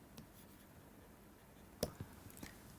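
Faint scratching and tapping of writing on a board or paper in a quiet room, a few soft strokes with one sharper tap near the end, and no voices.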